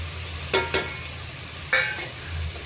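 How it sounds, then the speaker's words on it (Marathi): Chicken tikka biryani mixture stirred in hot oil in a pan, with a few sharp scraping stir strokes over a low steady sizzle, close and moderately loud. "चांगलं तेलामध्ये परतून घ्यायचं सर्वांना"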